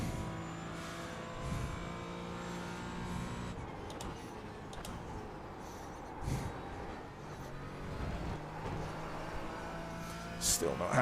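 A Porsche race car engine in a sim racing esports sprint event drones steadily with a buzzing, harmonic whine as the driver eases the throttle to tame oversteer, the note rising and dipping slightly through the lap.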